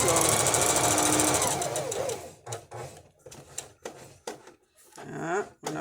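A sewing machine stitches steadily and loudly for about two seconds, then stops; short bursts and sparse clicks follow, with a person speaking in between.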